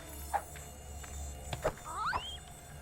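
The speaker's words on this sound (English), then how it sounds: "they sound like mosquitoes more than beetles" Swarming beetles in the video game Fable: The Lost Chapters make thin, whining buzzes like mosquitoes, rising and falling in pitch several times over a soft ambient game backdrop, with no voices.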